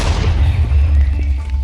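Railway artillery cannon in the Minecraft Create Mod game fires one loud, heavy boom at close range, its deep low rumble decaying over about a second and a half.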